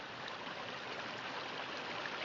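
Water of a stream runs steadily down a wooded gully above the River Roeburn, a continuous rushing wash with no break, close and even throughout.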